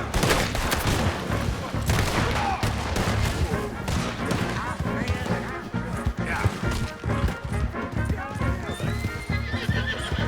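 Gunfire during a horseback chase in Red Dead Redemption 2, with sharp shots cracking over loud clip-clopping hooves and whinnying horses, alongside shouting voices throughout.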